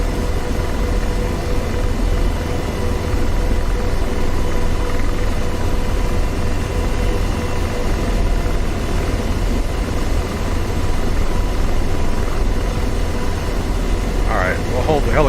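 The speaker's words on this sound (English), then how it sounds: "Hold the helicopter about right here" A helicopter in the DCS World flight game over the Syria map produces a loud, constant rotor and engine drone that holds steady for the whole stretch.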